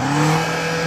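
Twin-turbo 4.4-litre V8 SUV engine revving, a brief, loud, close burst of strong engine roar.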